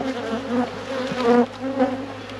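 Honey bees buzz close up during inspection of a queenless rescued hive, a dense, continuous droning hum with pitch wavering as individual bees pass near.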